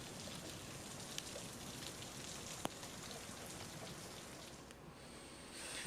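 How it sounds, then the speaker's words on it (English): Hail falls outdoors in a dense, even patter, with a few sharper individual hits standing out from the soft, quiet wash. "Here's some awesome hail we got."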